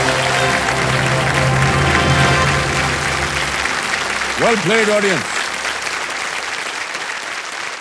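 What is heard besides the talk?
studio audience applause on a TV quiz show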